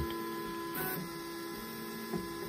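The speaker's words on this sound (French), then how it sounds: "il va réaliser un nivellement automatique qui se fait en 25 points" An Anycubic Kobra S1 3D printer runs its automatic 25-point bed leveling, giving a steady mechanical hum with faint whirring and two brief soft clicks or knocks, fairly quiet and with no talk.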